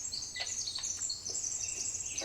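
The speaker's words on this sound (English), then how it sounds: "God, the birds are so loud." Woodland birdsong in the Blair Witch video game, a dense chorus of high chirps and trills filling the forest ambience continuously at fairly strong level, with faint low background hum and no speech.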